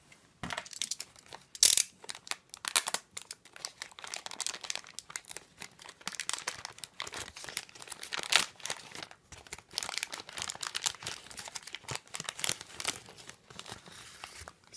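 Paper wrapping on a gift box being carefully unwrapped and crinkled, producing continuous close crackling and rustling with sharp tears and crunches throughout, no voices.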